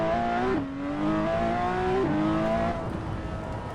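A Porsche in a racing video game drives along English-style roads, its engine droning steadily with two clear upshifts where the pitch drops, loud and close throughout with no talk.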